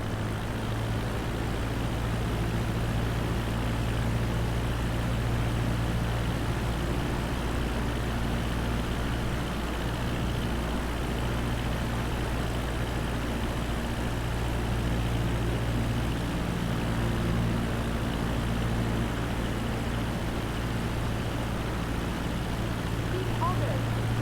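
A propeller aircraft engine in Microsoft Flight Simulator 2024 holds a steady, loud low drone throughout, with strong low-frequency hum and constant rumble as the throttle is brought back in.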